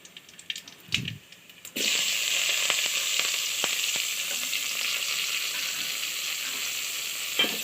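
Curry leaves and onion hit hot oil for a beetroot stir-fry: a few light clinks, then a loud, steady sizzle bursts in and keeps going close up, with small pops and scrapes on top.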